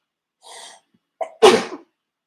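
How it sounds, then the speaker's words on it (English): A single loud sneeze up close, preceded by a soft inhaled breath and a quick catch of air before the burst. "sorry, I gotta sneeze."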